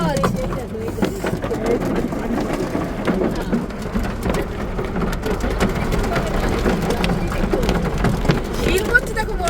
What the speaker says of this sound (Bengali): শিল পাচ্ছে দেখো, বড় বড় ওই দেখো সামনে।